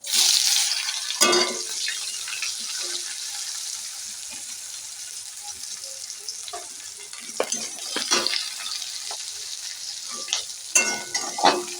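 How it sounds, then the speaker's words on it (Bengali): Onions hiss and crackle as they hit hot oil already seasoned with cumin seeds and chili, a steady close sizzle broken by a few sharp clatters and scrapes of stirring. "জিরের ফোড়ন দেবো জিরেটা হয়ে গেছে লঙ্কাটা হয়ে গেছে হ্যাঁ এবার আমি পেঁয়াজটা দেবো"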